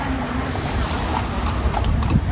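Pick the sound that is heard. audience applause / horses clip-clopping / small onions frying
horses clip-clopping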